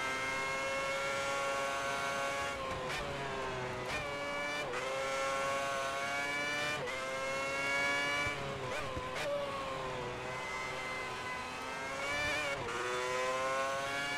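An F1 2010 race car in the video game drives a qualifying lap in Malaysia, its high-revving engine whining loudly and continuously, pitch climbing and dropping sharply with each gear shift and braking point.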